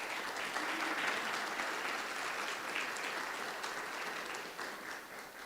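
Audience applause at a Guide Dogs for the Blind graduation, a steady, fairly distant wash of crowd clapping that holds throughout and eases slightly at the end.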